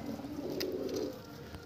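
Madras pigeons in a loft, white birds, give a soft, close coo lasting about a second. It is faint and low, with a faint click partway through, and no voices.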